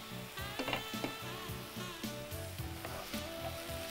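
Vegetables sizzle in a pan while a utensil scrapes and taps rhythmically against it, close up and fairly quiet.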